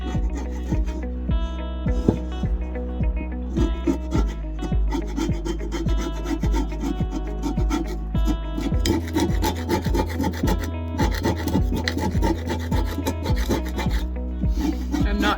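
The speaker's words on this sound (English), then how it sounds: "Just trying to get the grime off so it doesn't end up in my next meal." Steady rhythmic scrubbing and rasping as grime is scoured off a cast-iron pan, a continuous close back-and-forth rubbing with a low hum underneath.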